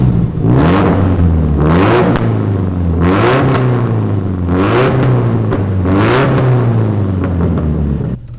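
A built 420bhp Subaru WRX STI Hawkeye with a 3-inch decat straight-through exhaust and afterburner back box revs hard in about five loud, rising and falling blips over a steady idle, close up with no talk.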